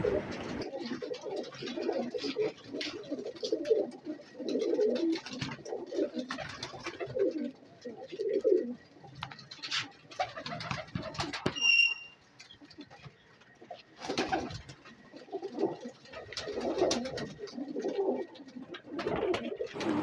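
Several pigeons coo softly and steadily in low, throaty bursts, with some faint rustling and background sounds mixed in.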